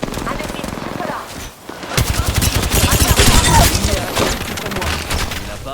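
Rapid automatic gunfire in the Apex Legends battle royale game, loud bursts of shots rattling over a couple of seconds amid game effects, with a voice speaking over it.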